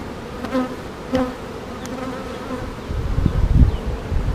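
Honey bees buzz steadily from an open hive during a frame inspection, a close continuous hum with a few louder passes of individual bees and low rumbling handling noise toward the end.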